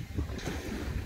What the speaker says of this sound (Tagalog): Ayan yung mga waves, Lucky Angels.